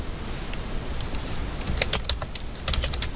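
Fast typing on a computer keyboard, with brisk clusters of close key clicks over a steady background hiss and no talking.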